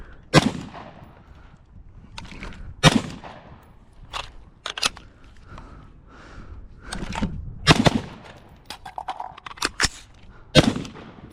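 Rifle shots from an MK18 build crack out at an outdoor range during static drills, loud sharp reports in irregular clusters over about eleven seconds, with quieter handling and movement between them.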